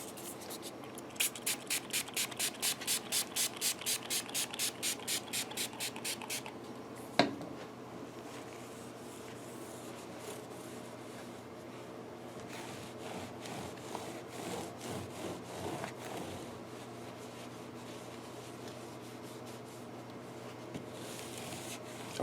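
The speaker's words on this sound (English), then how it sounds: "When you're rubbing it on your neck like that and you don't see any strings coming left over, you know the frets ain't too bad." A plain cloth is rubbed back and forth along the neck of an Amazon Stratocaster to polish the frets, giving a quick run of rhythmic scrubbing strokes, a sharp knock, then softer intermittent rubbing, close up.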